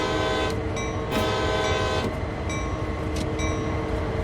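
A train passes in the Train Sim World 2 video game on the Sand Patch Grade route, its horn blaring in long, steady blasts over the continuous rolling rumble of the wheels, loud and close.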